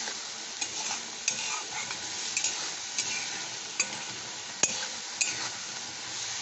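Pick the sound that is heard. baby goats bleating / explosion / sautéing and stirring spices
sautéing and stirring spices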